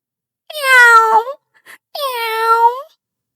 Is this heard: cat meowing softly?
yes